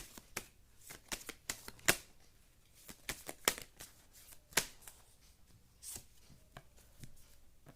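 Tarot cards are shuffled and drawn close up. Crisp bursts of riffling and slapping card sounds come in quick uneven clusters with short pauses between them, and no one talks.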